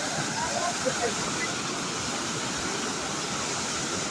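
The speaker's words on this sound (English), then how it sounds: "this is a real waterfall" Ogden Canyon Falls, a real waterfall in Ogden Canyon, Utah, roars in a constant, dense rush of falling water that fills the whole clip at close range without letting up.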